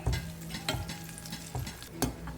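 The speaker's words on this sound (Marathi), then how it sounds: "आनी मातशें एक लायट ब्रावन जायसर न्ही आमकां हें फ्राय करून घेवंक जाय" Dry coconut frying in a pan until light brown: a steady sizzle broken by repeated spoon scrapes and taps as it is stirred, close and moderately quiet, with no speech.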